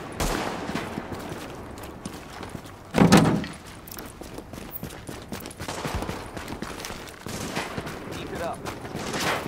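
Gunfire rages through a battle in The Division video game on PS5, with dense continuous shooting and clatter, a louder burst about a third of the way in and game voices mixed into the din.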